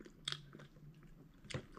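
Quiet, close crunchy bites and chewing into Bonchon chicken wings in a bun with crunchy coleslaw, with two sharper crunches a little over a second apart.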